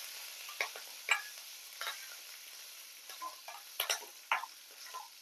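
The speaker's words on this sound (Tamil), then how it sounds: "நம்ம ஒரு கைப்பிடி அளவுக்கு கருவேப்பிலை சேர்த்துக்கலாம். இது எல்லாத்தையும் நம்ம நல்லா மிக்ஸ் பண்ணி விட்டுடலாம்." Curry leaves frying in hot oil for hotel-style sambar, giving soft crackles and scattered pops as a spoon stirs them, with quiet sizzle throughout and no talk.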